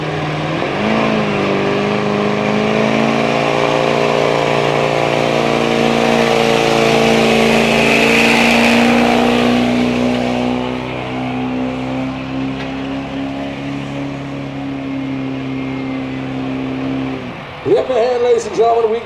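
A pulling truck engine at a truck and tractor pull in Melbourne, Ontario, roaring loud and sustained, revving higher and holding before cutting off near the end, under an announcer's voice.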